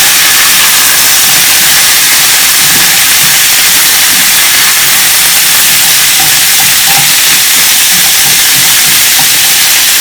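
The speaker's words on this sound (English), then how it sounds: "I'm going to add a little bit of water to help steam the dish to start cooking the asparagus" Water hissing and steaming in a hot skillet with asparagus and beef, a loud, continuous sizzling roar with faint crackles and bubbling, steady from start to finish.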